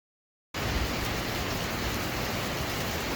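After half a second of silence, heavy rain near a lake and a flowing waterfall sets in abruptly as a loud, steady, broadband hiss that continues unbroken to the end.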